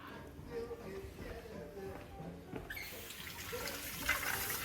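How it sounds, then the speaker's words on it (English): Tap water runs onto peeled shrimp in a kitchen sink, a steady splashing stream that swells louder partway through as the flow hits the shellfish, close and continuous. "And I'm just going to give them a little rinse."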